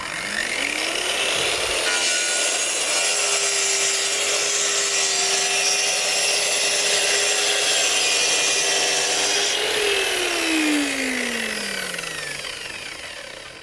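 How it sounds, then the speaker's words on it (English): Triton TTS1400 plunge track saw making a scribe cut in a worktop: the motor spins up, then a steady loud whining, rasping cut runs about eight seconds before the blade winds down, close and alone. "Right, let's give this a Scribe cut."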